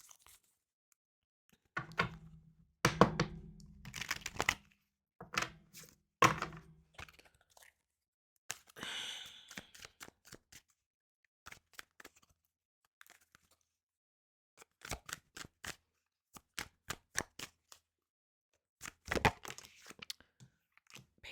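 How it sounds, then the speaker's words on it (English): Tarot cards are flipped and handled during a reading, giving scattered light clicks, snaps and soft slides, with bursts of quick card taps between quiet gaps. "Hold on, I gotta flip these cards over."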